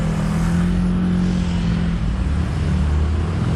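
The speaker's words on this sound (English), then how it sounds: "There's a nice car right there." A car on a street in Macau hums past close by, a steady engine and tyre rumble that swells briefly and then fades.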